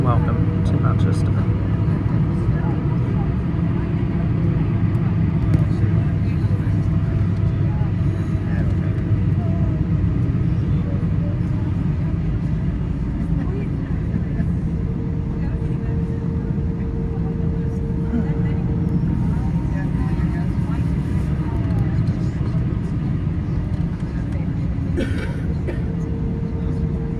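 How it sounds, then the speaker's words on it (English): An airplane queues for the runway at Manchester Airport, giving off a steady, loud, low engine rumble that runs unbroken for nearly half a minute while someone talks over it. "Plane there, queuing up for the runway"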